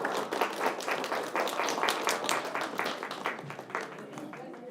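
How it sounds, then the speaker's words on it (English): A round of applause for children at a city council meeting, a dense, moderately loud clatter of clapping with faint voices mixed in, tapering slightly at the end. "one more round of applause"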